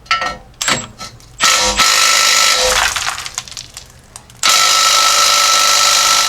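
Impact wrench hammering on stuck 9/16 U-bolt nuts of a Jeep Cherokee XJ exhaust, loud bursts of rattling impacts in several runs, the last long and steady, with clanks between.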